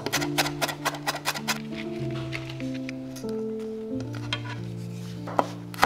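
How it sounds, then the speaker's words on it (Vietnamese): A knife chops rapidly on a cutting board, mincing about 15 g of purple shallot, with a quick run of close, crisp taps early on and sparser knocks later over a steady background of sustained music tones. "Dùng một củ hành tím khoảng 15g, xắt ra và băm nhỏ"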